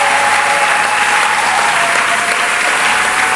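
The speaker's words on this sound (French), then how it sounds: "Est-ce qu'on peut acclamer le Seigneur?" Church congregation applauding to acclaim the Lord during a service, a dense, steady wash of clapping sustained loudly throughout with a faint tonal hum beneath.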